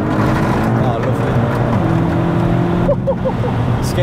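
A 500BHP Skoda Octavia vRS drives hard, its engine a loud, steady low drone with road and wind roar from inside the cabin, a few short chirps near the end.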